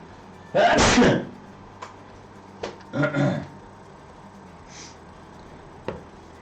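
A sneeze bursts out loud and close near the start, with a second, weaker sneeze-like burst about two seconds later, then quiet room tone with a few faint clicks, in a workshop during inlay work.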